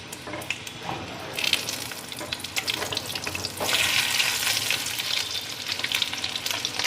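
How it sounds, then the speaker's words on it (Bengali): Pieces of fish fry in hot oil over a medium-low flame for chilli fish, giving a steady close crackling sizzle that grows brighter and busier partway through as the pieces are turned. "আমি মাছের পিসগুলোকে উল্টে পাল্টে লালচে করে ভেজে নেব।"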